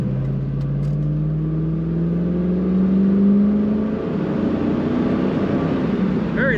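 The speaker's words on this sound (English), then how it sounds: "Very nice acceleration, crisp throttle response from this car." A 2002 Chevrolet Camaro Z28 convertible with an automatic transmission accelerates, its engine note climbing steadily in pitch as it revs up, then easing as the transmission shifts, heard loud and close from inside the car.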